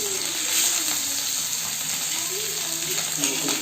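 Native murrel (viral) fish fries in hot oil in a pan with curry leaves, giving a steady, close, continuous sizzle with faint voice undertones.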